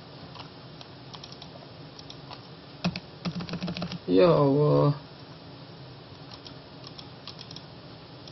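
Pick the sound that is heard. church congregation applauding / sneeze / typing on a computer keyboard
typing on a computer keyboard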